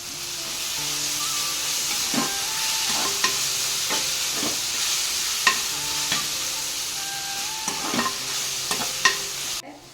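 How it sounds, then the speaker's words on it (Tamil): Ginger garlic paste sizzles and hisses steadily in a hot pan, with repeated scraping clinks of a spoon stirring at an irregular rhythm, close up. "இந்த நேரத்தில் நம்ம இஞ்சி பூண்டு பேஸ்ட் போட்டுக்குவோம்"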